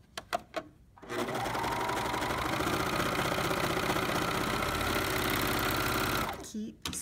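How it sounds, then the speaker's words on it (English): Serger sewing machine stitching through fabric, a steady loud mechanical whir running for about five seconds after a few brief clicks, then stopping. "Keep serging until you have your 4-inch tail"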